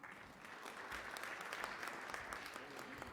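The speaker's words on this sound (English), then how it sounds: "Let's give him a round of applause." A conference audience applauds a speaker, a steady, dense wash of many hands clapping from a distance for several seconds, fairly soft in level.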